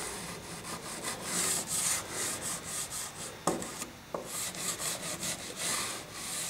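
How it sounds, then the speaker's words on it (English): A rubber stone is rubbed back and forth along model train track tops to clean them, a rhythmic, close scraping in repeated strokes with a couple of sharp knocks in between. "this is what I'm going to clean the top of the tracks with"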